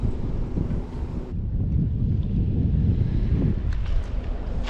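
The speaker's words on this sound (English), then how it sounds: "Little windy." Strong wind buffets and roars across the microphone in constant gusts on the Mississippi River at high water, a low rumbling blast with no voices.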